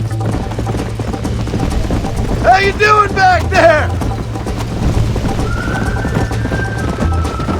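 A horse gallops with steady hoofbeats and lets out a loud, wavering neigh partway through, close up, in the Red Dead Redemption video game, while someone speaks over the scene.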